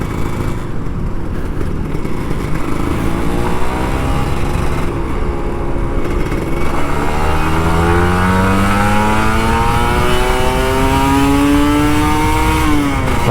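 A Kawasaki Ninja RR 150 two-stroke motorcycle runs fast with a loud, raspy, buzzing engine that climbs in pitch through the gears under steady wind rush, heard close from the rider's position without any talking.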